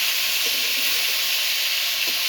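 Mixed vegetable bhaji frying in a pan, a continuous soft hiss and sizzle with faint stirring, no voices.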